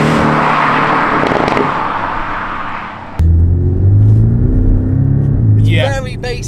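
Inside the cabin of a Porsche without a sports exhaust, a deep, boomy engine and exhaust drone hums loudly and steadily, its low pitch shifting slightly, with a brief voice near the end.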